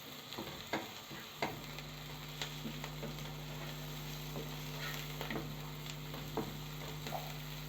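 Fava beans with tomatoes sauté quietly in a pan, a soft sizzle over a steady electrical hum, punctuated by a few distinct stirring knocks and scrapes.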